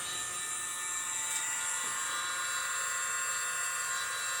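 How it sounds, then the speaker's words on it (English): A mini air blower pushes paint across a surface during fluid painting. A steady, close, high-pitched whine holds constant the whole time without a break. "I love my mini blower"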